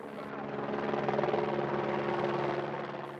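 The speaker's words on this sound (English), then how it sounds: "A helicopter flies the measuring antenna about 30 meters above the surface of the terrain." A helicopter flies a measuring antenna about 30 meters above the terrain, its rotor a steady close throbbing drone with a slight swell in the middle, heard on its own throughout.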